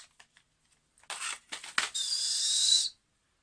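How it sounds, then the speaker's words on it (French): A small toy whistle from a Japanese snack is blown close by, first in a few short chirps and then in a sustained shrill tone that holds for about a second before stopping. "Oh, ça siffle!"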